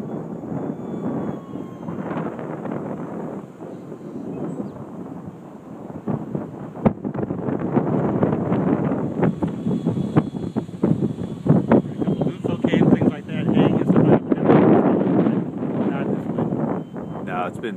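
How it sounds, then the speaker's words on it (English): Strong simulated wind in the RealFlight 6.5 RC flight simulator game, a steady loud rushing roar mixed with a propeller-plane drone that surges and fades throughout, with people talking over it. "Wind set to do not fly today."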